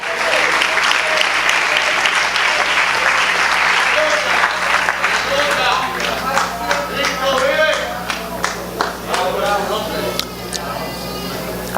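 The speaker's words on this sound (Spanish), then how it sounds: "Dele fuerte el aplauso, Señor." A church congregation applauds during a Spanish-language sermon, a loud, dense wave of clapping that gradually thins into scattered individual claps and fades toward the end, with faint voices mixed in.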